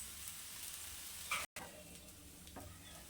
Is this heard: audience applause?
no